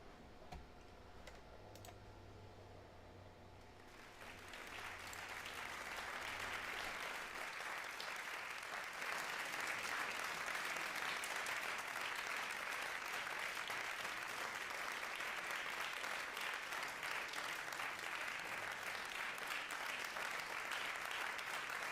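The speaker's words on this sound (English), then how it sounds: "this is the song with like clapping for 30 seconds at the beginning" Recorded clapping that opens a played song: after a few seconds of quiet with a low hum, steady rhythmic crowd applause swells in and continues evenly, dense and crisp, for the rest of the stretch.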